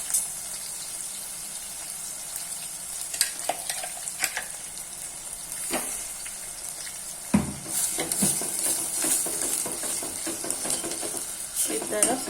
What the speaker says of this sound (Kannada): ಇವಾಗ ಈ ಎಣ್ಣೆ ಕಾದಿದೆ. ಇದಕ್ಕೆ ಸ್ವಲ್ಪ ಜೀರಿಗೆ ಮತ್ತು ಸ್ವಲ್ಪ ಸಾಸಿವೆ ಹಾಕ್ತೀನಿ.